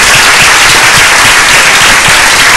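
A church congregation breaks into loud, dense applause, a continuous wash of many clapping hands that stays level and close throughout, with no voices standing out.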